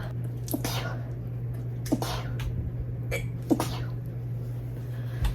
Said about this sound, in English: to sneeze though